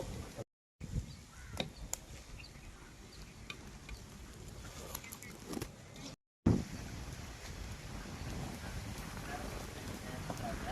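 Strong wind gusts across an outdoor village cooking spot where pepper chicken is being made, a steady broadband rush with microphone buffeting that briefly cuts out twice.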